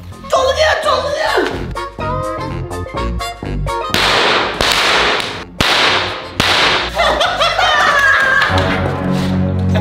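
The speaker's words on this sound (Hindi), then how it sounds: "किन चलाए थे पटाखे?" Firecrackers set off during Shab-e-Barat celebrations, a rapid string of loud, sharp cracks and bangs, some overlapping, near and dominant across the whole stretch, with voices faintly mixed in.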